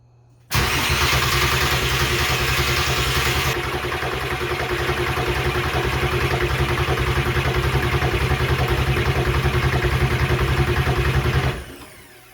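VW Jetta Mk1 fitted with a 3.6L FSI engine starting abruptly, then settling into a loud, steady idle close by for about ten seconds before cutting off.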